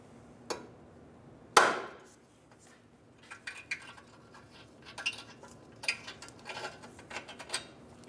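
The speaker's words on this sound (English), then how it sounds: "We're going to hit the bolt with a hammer." Hammer striking a bolt with a nut on it while removing a control arm on a 2011-2014 Hyundai Sonata, two sharp metallic blows followed by lighter taps and clinks nearby.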